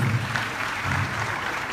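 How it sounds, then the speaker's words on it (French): A crowd at a live wrestling event applauds a performance, sustained dense clapping with a low murmur of voices underneath, steady and fairly loud throughout. "Ça s'applaudit, mesdames et messieurs."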